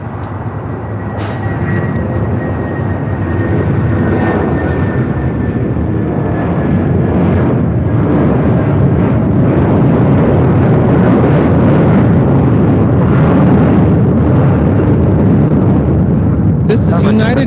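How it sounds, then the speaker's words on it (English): United Airlines Boeing 757-200 taking off from LAX bound for Houston Intercontinental, a loud, sustained jet engine roar filling the whole stretch and building steadily, with voices talking over it. "432 taking off to Houston Intercontinental on a 757-200"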